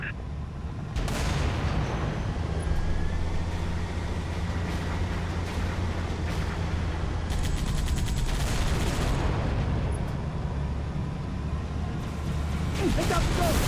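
A video game battle rages with sustained, loud bursts of gunfire and heavy weapon blasts that overlap continuously, while voices speak intermittently under the din.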